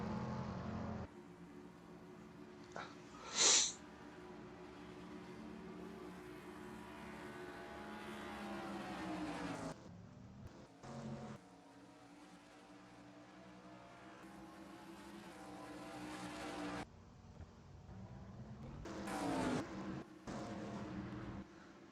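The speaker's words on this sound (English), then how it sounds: "The 82 got off of pit road first and everybody else is following behind while these cars are just gonna shoot right by" Race cars at Daytona shoot past on pit road, engines revving and droning as several pass one after another, swelling and fading with brief gaps between them, with no talk.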